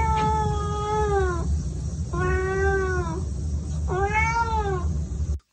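A cat meow sound effect from the video game Xenogears repeats three times in a steady rhythm, each call drawn out and falling, over a constant low background hum with no talking.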